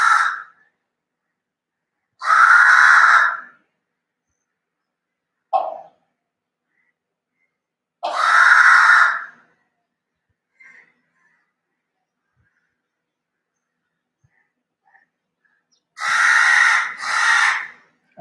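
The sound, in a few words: crow cawing in the evening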